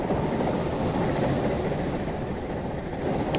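Steam locomotive in Train Simulator, racing on the Settle–Carlisle line, crossing a bridge over a river. A steady rumble of wheels on track runs throughout with no talk.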